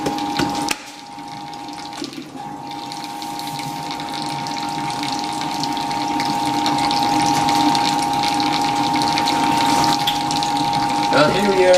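A Fisher & Paykel Smart Drive GW712 washing machine drains with a steady pump whine and rushing water, loud and continuous after a brief knock at the start, with occasional faint voices.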